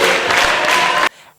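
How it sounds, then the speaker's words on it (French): An audience at a French corporate event claps in unison, a loud rhythmic burst of hand claps that stops abruptly, leaving faint room reverberation. "vous applaudissez 12 fois les mains"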